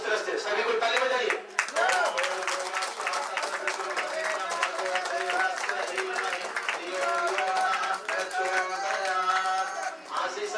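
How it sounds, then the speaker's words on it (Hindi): Guests at a Hindu wedding ceremony clap their hands in a sustained stream of rapid, overlapping claps while voices chant or sing over the top. "सभी को ताली बजाइए"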